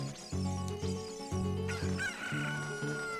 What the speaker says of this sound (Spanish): A ver, gallina, ven.